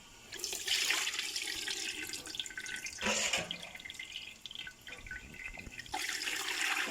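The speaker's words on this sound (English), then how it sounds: "The first strain, I'm using this net to strain it very well." Boiled pineapple peel liquid poured and strained through a net, a steady splashing, trickling flow with a few stronger gushes, heard alone and fairly quiet.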